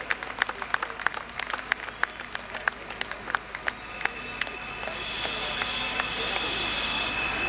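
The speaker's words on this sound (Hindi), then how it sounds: "तालियां बजाते रहें भाई।" At a medical conference award ceremony, scattered individual hand claps from the audience ring out sharply at first, then merge into a softer, continuous applause that carries on in the hall.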